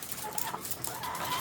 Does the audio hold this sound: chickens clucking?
yes